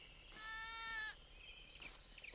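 A ram bleats once in Farming Simulator 22, a loud nasal wavering baa lasting under a second, followed by faint farm ambience and a softer distant bleat.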